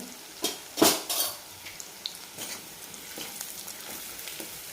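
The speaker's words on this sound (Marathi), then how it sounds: "तर हे छान आपल्याला परतून घ्यायचे" Kashmiri red chili powder and red chili powder sautéed in a pan for shahi paneer masala, with a couple of loud metal spoon scrapes and clinks over a light frying sizzle.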